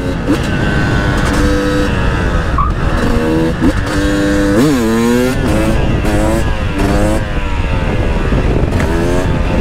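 A two-stroke KTM 300 TPI supermoto motorcycle engine revs hard and continuously, its pitch rising and falling in quick sweeps, loud and close throughout.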